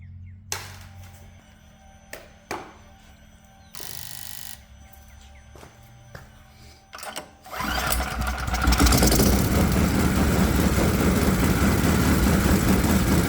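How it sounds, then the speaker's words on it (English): A 212cc Predator small engine fitted with port fuel injection cranks after a few sharp clicks and thumps, then fires and settles into a loud, steady running roar that fills the rest of the recording. "we're ready to fire this puppy up with the 21st century port fuel injection on a 212cc Predator engine"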